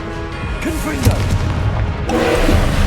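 Confringo explosive spell in the Hogwarts Legacy video game, booming blasts and crackling magic effects over a dense game soundscape, with a sharp thump near the middle and another burst of energy toward the end.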